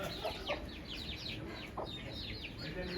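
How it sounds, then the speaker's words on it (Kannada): Chickens cluck and chirp in short repeated bursts through steady outdoor background noise, moderately near and fairly quiet. "ನಂದಿಯಲ್ಲಿ ಕೋಳಿ ಬಂದಿದೆ, ಬಾ ನೋಡು"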